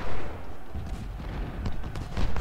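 Bursts of musket gunfire and artillery booms from a Civil War battle in the strategy video game Ultimate General: Civil War, a dense, rumbling volley filling a brief stretch without speech.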